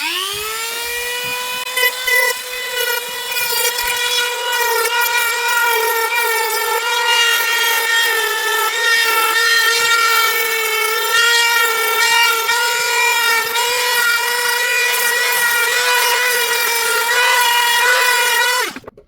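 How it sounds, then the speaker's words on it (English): A power sander works wood, giving a loud, steady, high-pitched whine with strong harmonics that holds for about eighteen seconds before cutting off abruptly. "A little sand with this."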